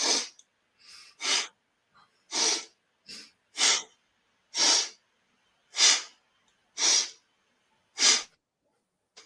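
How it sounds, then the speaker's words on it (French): Slow, deep breaths in a guided breathing exercise, about eight breathy bursts of air evenly spaced with short pauses between them, close and fairly loud with no talking. "Donc, on va inspirer."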